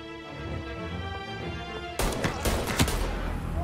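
Gunfire in the video game Mafia: Definitive Edition, arriving as a sudden burst of rapid, loud shots after a stretch of quieter game music, with the shots cracking over a rumbling background.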